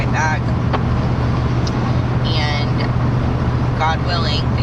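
Inside a car driving on the road, a steady low engine and road rumble fills the cabin, with brief snatches of a voice above the drone.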